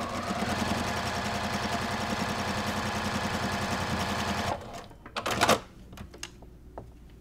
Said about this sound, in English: And just sew the last rectangle on the top.